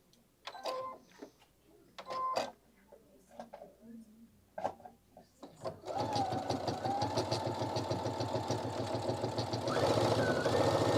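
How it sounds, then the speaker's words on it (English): Sewing machine stitching a seam after a few clicks and handling sounds, then a steady close rapid mechanical whirring and chatter that holds to the end. "So let me just sew a quick little seam."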